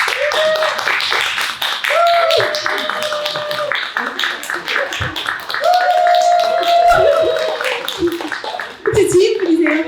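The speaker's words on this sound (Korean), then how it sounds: "박수로 모시겠습니다." A lecture-hall audience at a book concert claps steadily in dense, sustained applause to welcome a guest speaker, while a voice talks and sings tones over the clapping throughout.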